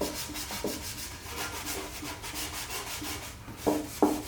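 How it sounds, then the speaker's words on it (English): A Scotch-Brite abrasive pad scrubs a metal valve cover from a Honda CB9 Accord Wagon, giving a steady close rubbing hiss in repeated strokes, with two sharper scuffs near the end. "I'm just gonna go over it with like this little Scotch-Brite pad to basically clean off any excess residue"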